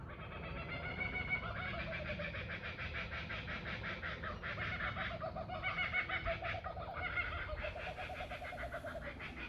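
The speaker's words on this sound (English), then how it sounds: "Kookaburras are very happy." Kookaburras call in afternoon sunshine in a countryside garden, a steady, rolling chorus of cackling bird calls at moderate distance, continuous throughout.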